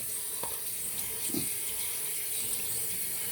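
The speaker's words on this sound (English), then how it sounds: "Let's rinse our hands off." A faucet runs steadily as hands are rinsed after lathering shave soap, a soft, continuous hiss of water with faint splashes against the sink.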